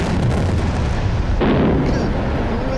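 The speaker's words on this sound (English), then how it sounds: "I think I expected an explosion." A detonated landmine goes off during mine clearing, a loud booming blast with a sudden surge of rumble partway through that rolls on and slowly fades.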